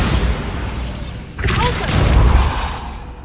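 A Bombarda blasting spell in the video game Hogwarts Legacy goes off as a sudden loud boom partway through, followed by a rumbling, crackling burst that fades, with a voice casting the spell just before.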